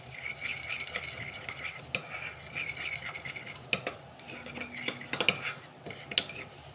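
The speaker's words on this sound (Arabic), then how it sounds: "هقلب بقى المكونات دي كده كويس." A spoon stirs shish tawook marinade with thyme in a bowl, making quiet repeated scraping and clinking strokes in an uneven rhythm throughout, with a few louder knocks near the end.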